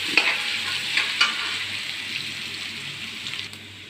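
Onions frying in oil in a pan for a pork curry, giving a steady close sizzle with a few brief stirring scrapes near the start. No one speaks.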